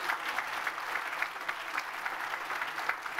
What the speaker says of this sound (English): Please, one more round of applause for Jesse, he did a great job.